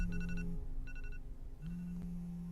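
A morning alarm keeps ringing in repeated bursts of electronic beeping with short gaps between, steady and close, with no voices.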